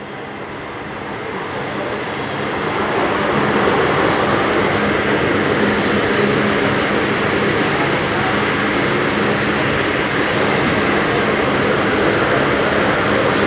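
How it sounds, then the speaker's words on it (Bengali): A train departing a station at night, a steady broad rumble that swells over the first few seconds and then holds loud and constant, with faint high squeals and clicks above it. "ট্রেন ছেড়ে দিল বন্ধুরা"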